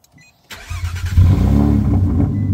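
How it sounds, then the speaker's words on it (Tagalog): A car engine turns over and catches close by, then revs in a loud, rough burst with crackling exhaust pops, settling into a throbbing run. "Pumuputok yung tambutso."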